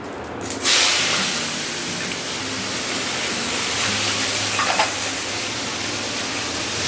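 A large chopped onion frying in oil in a pan for a khoira fish head curry, a loud bright hiss that bursts in as the onions hit the oil and then settles into a steady sizzle.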